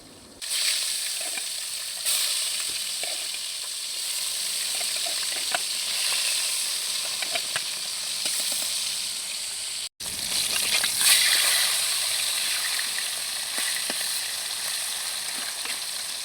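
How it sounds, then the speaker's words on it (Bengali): Fish pieces fry in hot oil in a pan, giving a steady, close sizzling crackle with faint stirring ticks throughout, briefly cut off once midway before the frying resumes just as loudly, with no speech. "তেলটা গরম হয়ে গিয়েছে, আমি মাছগুলো সব ভেজে নেব।"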